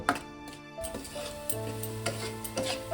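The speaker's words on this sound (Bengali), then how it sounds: "যতক্ষণ না নারকেলটা একদম মাখা মাখা হচ্ছে শুকনো শুকনো হয়ে যাচ্ছে ততক্ষণ আমি মিট পার থেকে এইভাবে নেড়ে নেব" Coconut and jaggery filling stirred in a pan for chholar dal puli pithe, a steady soft scraping with faint sizzling and occasional spoon knocks against the pan, close and quiet, no talk.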